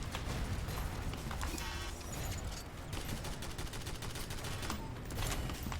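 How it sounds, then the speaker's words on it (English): Mortar fire in a roguelike shooter video game, with rapid overlapping blasts and crackling impacts forming a dense, continuous barrage, loud and busy with no speech. "There's another mortar."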